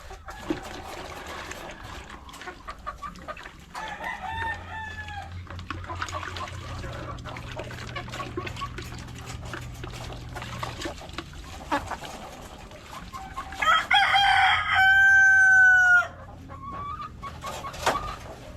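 Pet chickens being bathed cluck and squawk in scattered bursts, with a loud, shrill rooster-like call near the end, over trickling water and handling noises.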